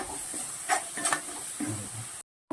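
Spiced filling of turmeric, homemade masala and coriander powder sautéing in a pan, with a steady soft sizzle and a few scraping stirs, ending in a sudden cutoff.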